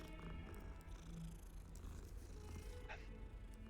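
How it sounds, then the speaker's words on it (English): A cat in Hogwarts Legacy purrs steadily and close up, a low continuous rumble over game ambience with no talking. "That's a cat."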